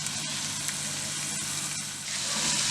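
Onions and herbs frying on low heat for homemade spanakopita, a soft steady sizzle and crackle running continuously, swelling slightly louder near the end, with no talking.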